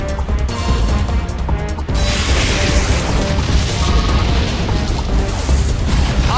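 The Explosion move in the Pokémon Battle Revolution video game, a loud, dense crashing roar that fills the whole clip, with a sharp burst near the start followed by sustained rumbling noise.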